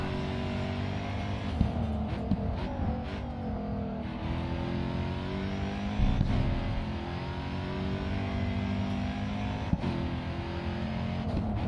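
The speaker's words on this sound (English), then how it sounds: "I love that you can actually hear the supercharger whine." A race car in the Grid 2 video game holds a steady, high supercharger whine over a loud, continuous engine drone, with the pitch rising and falling through gear changes and brief louder bursts.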